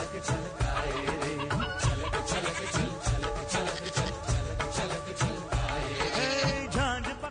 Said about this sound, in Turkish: sağ önümde horoz. Tavuk.